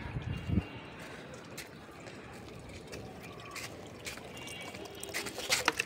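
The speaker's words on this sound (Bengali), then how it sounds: "আমি যেহেতু গাছে পানি দিতে আসছি," Water poured from a bucket and mug onto plants in a rooftop garden, soft splashing and trickling at close range, with faint clinks and rattles of handling in between pours.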